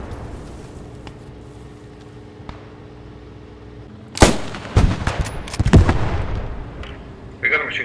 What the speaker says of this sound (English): We got a machine gun somewhere in the hill.